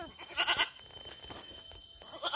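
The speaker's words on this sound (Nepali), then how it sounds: "यहाँ बाख्रा कराको कराई गरे ह।" Goats bleat at a busy village livestock market during the Dasain festival, a few loud calls rising above a steady crowd murmur and background bustle.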